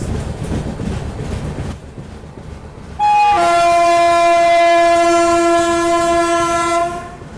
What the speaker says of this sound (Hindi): तो अभी अपनी ट्रेन पहुंच रही है जागी रोड रेलवे स्टेशन